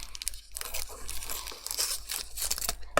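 Plastic packaging on a Papercraft Essentials craft magazine crinkles and tears close up as it is cut open with scissors, a steady stream of crisp rustling and snipping.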